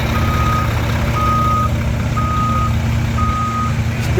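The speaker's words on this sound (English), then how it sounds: "This big instrument that's pulling in, that's known as the tar bucket." A tar bucket truck at a road paving site sounds its reversing alarm, four evenly spaced loud beeps over a heavy diesel engine rumble close by.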